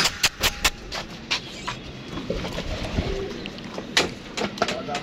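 Pigeons in a loft coo and call in a few separate bursts over steady low background rumble, with occasional brief knocks.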